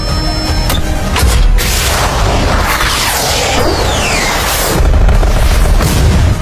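A missile strike explodes in a film about the Balakot airstrike, a loud, sustained booming blast that rumbles and rolls on for several seconds with no speech over it.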